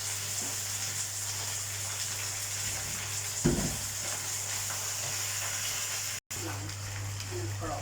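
Cabbage stir-fried with fish sauce in a pan gives a steady, close hissing sizzle throughout, with a brief louder burst midway and a short dropout near the end.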